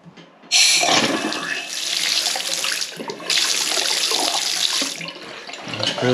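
A faucet gushes at high pressure after the household water supply is turned back on, a steady close hiss and splash that briefly dips mid-stream before resuming.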